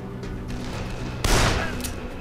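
Gunfire in the Dead Island video game, a sharp loud burst of shots striking midway through a low background hum.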